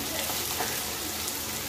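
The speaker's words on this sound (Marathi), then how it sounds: "छान असं फ्राय करून घ्यायचं" Chopped onions fry in oil in a pan for a potato chutney, giving off a steady, dense sizzle with a faint stirring scrape, close and continuous, with no talking.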